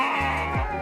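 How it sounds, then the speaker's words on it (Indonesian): Young Dorper and Awassi crossbreed lambs, recently weaned, giving a short wavering bleat close by amid faint farm background noise. "Sekarang kita lihat domba F1 Dorper dan F1 Awasi hasil breeding Abapon yang umurannya yang sudah lepas sapi"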